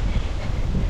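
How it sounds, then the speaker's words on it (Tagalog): Strong wind blows steadily and loudly, a dense continuous rush that fills the whole moment without a break. "Lakas ng hangin."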